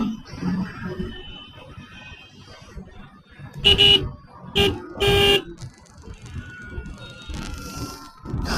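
Highway traffic noise with a faulty car horn sounding in several short, uneven blasts, its tone slightly strained, amid engine rumble and passing vehicles.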